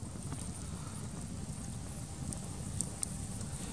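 A campfire of wood stacked in a tepee shape burns with a strong draft, giving a steady low roar with faint crackles and a couple of sharp pops, no talk.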